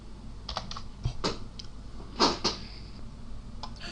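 Close, steady clicking of a computer keyboard as an email address and password are entered, irregular bursts of keystrokes with a few louder taps, no voices.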